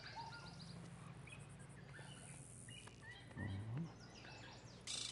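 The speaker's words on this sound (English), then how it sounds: "And I hear birds and everything." Faint birdsong chirps among ambient game sounds in GTA Online's Cayo Perico island setting, quiet scattered calls over a low steady background with a couple of louder thumps.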